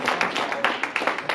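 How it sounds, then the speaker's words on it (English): Comedy club audience at a stand-up set claps, a small crowd giving a short burst of distinct, uneven hand claps, close and moderately loud. "Can we clap for customer service workers?"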